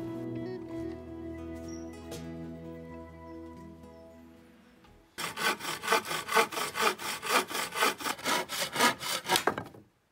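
Wood being hand-sawn for the roof of a small mailbox, about a dozen rhythmic rasping strokes that follow a quieter stretch of tonal background sound.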